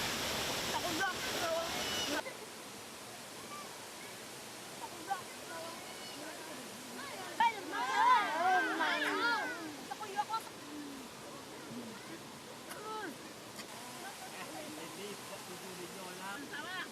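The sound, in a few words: waterfall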